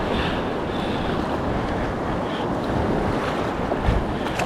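Steady, loud rush of river water and wind noise surrounds a paddled boat crossing the Tawe River, continuous broadband wash with small swells and no voices.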